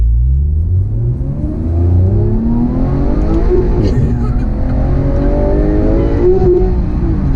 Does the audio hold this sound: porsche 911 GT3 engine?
yes